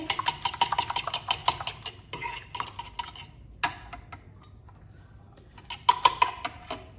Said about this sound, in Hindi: इसको एक बार दोबारा अच्छे से फेंट लेंगे